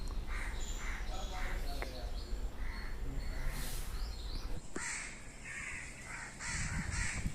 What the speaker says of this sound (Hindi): सुनिए इन पक्षियों की चहचहाट, मन को प्रसन्न कर देने वाली